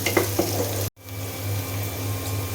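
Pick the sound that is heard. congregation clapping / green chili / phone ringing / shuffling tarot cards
green chili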